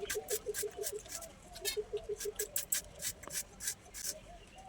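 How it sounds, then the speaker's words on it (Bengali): A knife chops an onion on a board in a quick series of crisp, close taps, coming in short bursts. Faint background sounds run underneath. "আগে আমি পেঁয়াজটা কেটে নিই"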